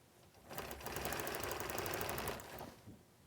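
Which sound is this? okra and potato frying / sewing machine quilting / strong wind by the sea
sewing machine quilting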